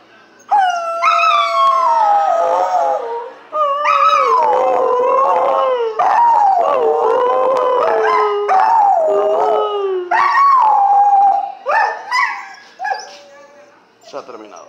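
A female dog howls in long, wavering, rising and falling tones like singing, loud and close for most of the stretch, with brief pauses between phrases, during a live stand-up comedy show.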